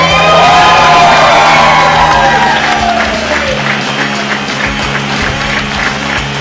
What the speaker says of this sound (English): This looks like a nice packed crowd.